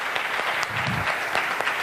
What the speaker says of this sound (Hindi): हमारे महागुरु के लिए जोरदार तालियां होनी चाहिए दोस्तों